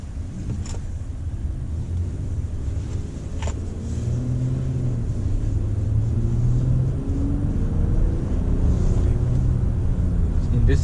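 A 2019 Honda Pilot Elite AWD engine hums low and subdued from inside the cabin while driving, a smooth rising drone under road and wind rumble that grows steadily louder.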